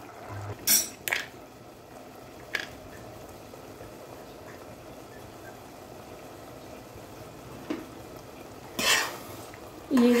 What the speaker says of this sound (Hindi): पानी सारा सूखता जा रहा है और हमारी सब्जी कितनी अच्छी बनते जा रही है